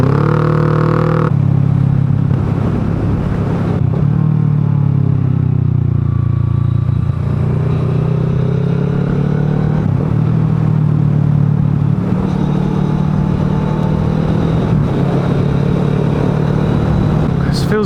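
A motorbike travels at 40 to 70 mph along a road in Croatia toward Dubrovnik, with a steady engine drone under heavy, continuous wind rumble.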